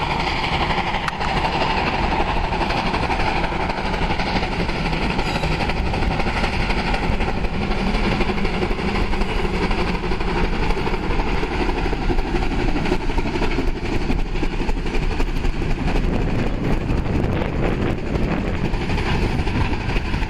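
Pistons of a working train locomotive driving it along, heard as a loud, steady mechanical rumble and clatter that continues unbroken throughout, with no talking.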